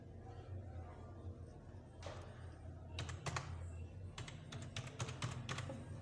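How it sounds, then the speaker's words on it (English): Someone types a password on a computer keyboard, soft quick key clicks coming in short bursts over a low steady room hum, with no talking. "Type in my password"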